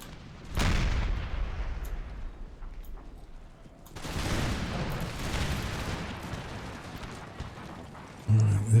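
Artillery guns firing in Empire: Total War, two heavy booming volleys several seconds apart with long rumbling decays, moderately distant, a voice talking briefly near the end.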